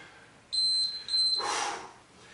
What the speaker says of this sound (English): I'll wait for the beep.